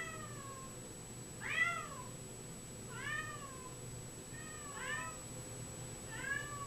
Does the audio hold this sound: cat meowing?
yes